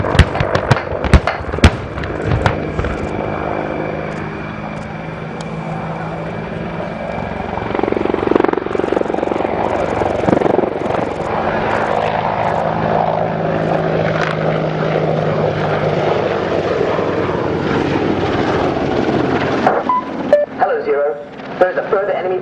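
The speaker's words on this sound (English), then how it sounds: "Apache is now using its powerful turbomecha engines to accelerate to 140 knots" Apache attack helicopter with Turbomeca engines accelerating to high speed during a military air display, a loud sustained rotor and turbine roar with rising intensity, mixed with narration and sharp bangs early on.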